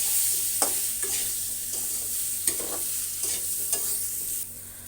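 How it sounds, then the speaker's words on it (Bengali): Koi fish curry with salt and turmeric sizzling in a pan while being stirred, a steady frying hiss broken by several spoon scrapes at irregular intervals, no talking. "এবার আমি একটু নেড়ে চেড়ে নেব।"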